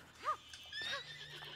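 A short, high whinnying neigh from a horse in the video game Princess Peach Showtime, followed by faint clip-clop and quiet game sounds.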